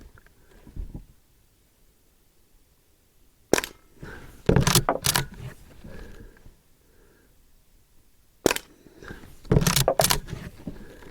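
Barra 1866 lever action CO2 BB rifle firing at a steel target, two clusters of sharp cracks and metallic clacks from the lever cycling and hits, with quiet gaps between.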